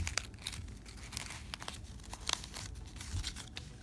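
Cardboard toilet paper roll folded and pinched by hand for a hamster treat toy, giving soft, close crinkling and crunching with scattered small crackles through the whole stretch.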